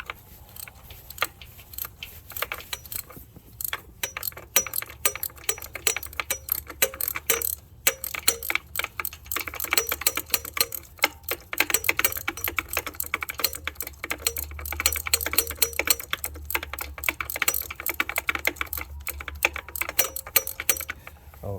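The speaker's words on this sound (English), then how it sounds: "I go for my socket and we put it on loosen and we loosen her up" A socket ratchet clicks rapidly and repeatedly at close range while loosening a spark plug on a 2012 Chrysler 300 with the 5.7-litre Hemi, with dense bursts of ratcheting across the whole stretch.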